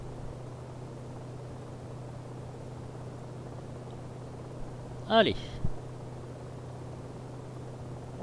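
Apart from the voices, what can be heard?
Vskylabs Mini 500 helicopter flying in video game X-Plane 11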